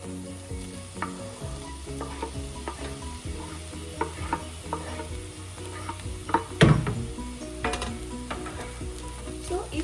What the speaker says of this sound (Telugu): టొమాటోస్ వేసేసుకుందాము.